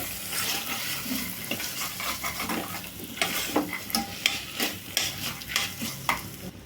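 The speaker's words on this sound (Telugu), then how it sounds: "బఠానీ మొత్తాన్ని వేసేసాం కదండి ఒకసారి కలుపుకోవాలి" A spoon scraping and stirring green peas through biryani rice in a pot, with a soft steady sizzle and rhythmic clinks toward the end.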